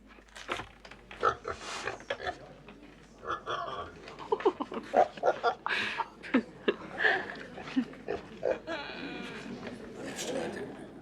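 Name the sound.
pig grunting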